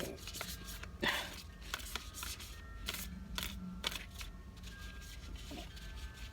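Hands shuffling a deck of oracle cards, with quiet, irregular slaps and riffles in short bursts, close up and soft, alone without speech.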